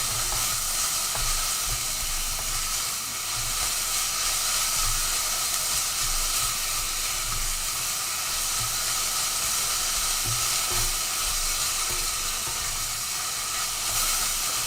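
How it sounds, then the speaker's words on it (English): Onions frying in a pan for a duck vindaloo, a continuous close, even hissing sizzle with faint stirring clatter, heard alone without speech. "And now we just want to get some color on our onions, and we want to go relatively dark on these"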